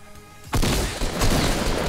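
A loud Fortnite shotgun blast erupts after a quiet start, followed by a sustained roaring burst of gunfire and explosive noise that fills the rest of the moment, close and harsh, with no talking.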